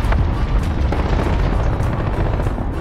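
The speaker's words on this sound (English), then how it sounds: "Airstrikes." Dense rumbling booms and blasts from airstrikes in a Call of Duty–style PC war game, a loud continuous barrage of low explosions with no talking.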